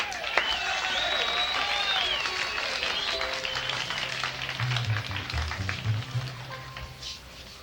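A crowd applauds a bluegrass band, dense clapping that gradually thins and fades, with a few voices and tonal sounds running over it.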